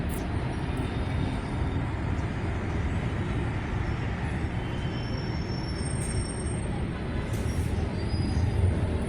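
A steady, loud rumble of a passing MRT metro train near Makati fills the whole stretch, a continuous roar of wheels and motion with no voices.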